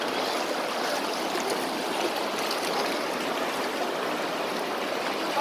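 A stream flows after a flood in a steady, broad rushing wash, close and constant, with no voices.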